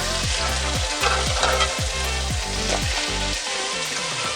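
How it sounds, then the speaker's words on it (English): Leeks sautéing in a pan with garlic and olive oil, a loud continuous sizzle broken by regular scraping strokes of stirring, close up and without talk. "I'll just add in my leeks"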